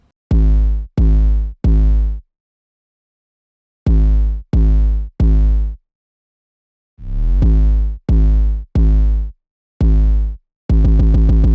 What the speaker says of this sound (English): I just made another pattern with the same 808.